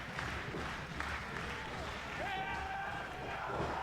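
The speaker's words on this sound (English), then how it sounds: "Hear the crowd getting behind him." A wrestling crowd cheers and claps in the background of a multi-man match, a fairly faint, steady roar under a commentator's voice, with a few sharper ring impacts.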